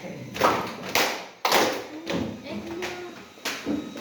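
Junior high students in a classroom pat their thighs and clap their hands together in a group rhythm, a series of sharp, loud slaps with short gaps between them, with a voice talking in between.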